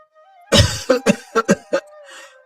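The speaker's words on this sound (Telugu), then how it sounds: "ఇల్లు ఉదయాన్నే దగ్గు శబ్దాలతో మారుమోగుతుంది" A person with a winter cold coughs in a quick series of about six harsh bursts, close and loud, followed by a faint breathy sound.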